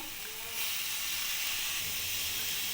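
Spiced cauliflower filling for paratha sizzles as it is sautéed in a pan, a steady bright hissing sizzle that swells slightly after the first half second and continues evenly.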